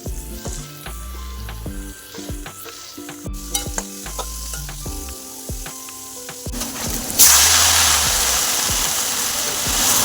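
Fenugreek leaf vegetable stirred and fried in oil, with close utensil scrapes and knocks against the pan, then a loud, steady sizzle rising sharply near the end.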